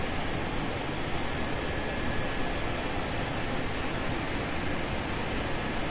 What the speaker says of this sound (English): how do I turn off those engines?